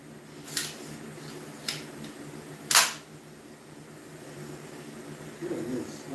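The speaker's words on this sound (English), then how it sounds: "You know the sound of a nail gun not firing a nail." Short, sharp clacks from a nail gun misfiring without driving a nail, three isolated snaps a second or so apart, the last loudest, over a low steady hum in a workshop.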